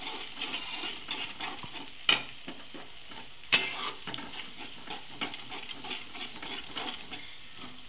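Beaten eggs are stirred into masala in a pan for egg rice, giving a quiet, irregular scraping and gentle sizzle, with two sharper spoon knocks against the pan.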